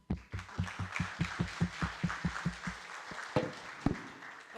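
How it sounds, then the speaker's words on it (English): A meeting audience claps for a speaker, sharp and rhythmic at first, like a group clapping in near unison, then loosening into scattered, uneven claps that thin out toward the end. "So please give her the large applause."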